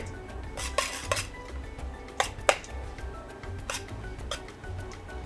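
A dish seasoned with salt and ground pepper being stirred, utensils clinking and scraping against the pot in several sharp, irregular knocks over a low kitchen background, no speech.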